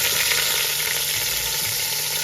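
A beef roast sears in a Ninja Foodi, giving a steady, close, even sizzle with a constant hiss and no voices.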